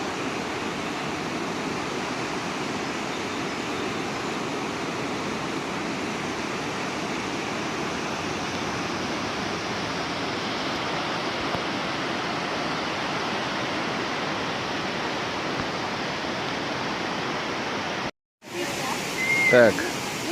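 The Nikhaloy waterfalls in Chechnya send up a powerful, unbroken roar of rushing water, loud and close and steady for nearly the whole stretch, before a brief cut and a short burst of nearby sound.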